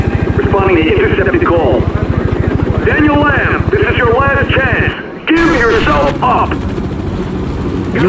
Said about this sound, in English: You were supposed to lose the damn helicopter.